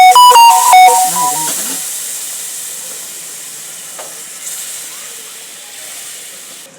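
A kurma masala mixture roasts in a hot pan, giving a broad steamy hiss that starts loud and slowly fades, after a brief run of electronic beeping tones at the start.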